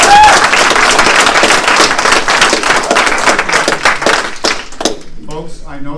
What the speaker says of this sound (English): if we're going to spend all night clapping and so forth